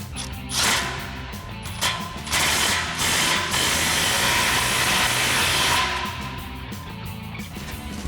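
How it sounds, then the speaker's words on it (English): A ratchet works on exhaust muffler inlet clamps under a Silverado 2500, with quick clicking strokes in short bursts and louder stretches, close and loud. "now that you've got your muffler inlet clamps tightened down"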